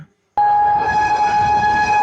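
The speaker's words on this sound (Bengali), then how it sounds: "আজ এই প্রথমবার হলদিয়া আসানসোল ট্রেন ধরে এখন যাচ্ছি খড়গপুর।" A Haldia–Asansol superfast express (train 22329) bound for Kharagpur sounds its horn with a sudden loud, sustained blast that begins after a brief silence and holds steady to the end.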